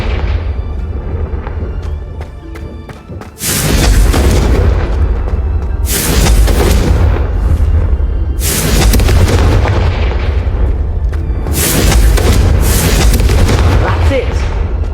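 Confringo spell blasting candelabras in a Hogwarts video game: loud, booming fiery explosions arrive in repeated bursts over a rumbling game score, and people talk at the start.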